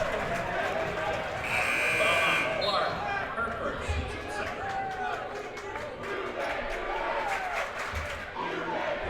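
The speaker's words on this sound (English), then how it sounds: "And the crowd really in it tonight." Spectators at a girls' high school basketball game keep up a steady roar of cheering and chatter throughout, with a buzzer-like tone early and sneaker squeaks and thumps underneath.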